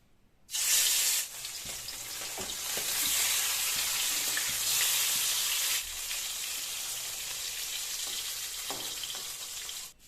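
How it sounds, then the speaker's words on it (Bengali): Rohu fish pieces frying in hot oil, a loud steady sizzle that bursts up as the fish goes in and keeps crackling close by for the whole stretch, with small spatters along the way. "এবার মাছগুলোকে ভেজে নেব।"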